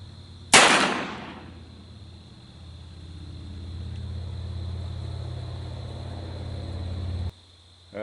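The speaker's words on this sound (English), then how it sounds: "get this shooting and see what it does" A single sharp gunshot from a Colt SAA New Frontier revolver in .357 fired at cans on a range, one loud close crack, followed by a fading rumble and a steady background drone.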